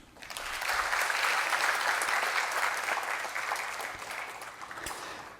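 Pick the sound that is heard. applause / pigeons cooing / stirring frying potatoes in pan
applause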